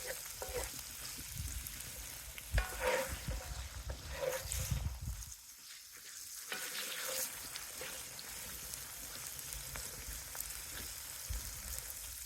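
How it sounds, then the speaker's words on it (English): Pancetta sizzles in a pan alongside potatoes at a steady, moderate level, with occasional stirring scrapes and a brief lull partway through. "Almost want the pancetta to go a little bit crispy."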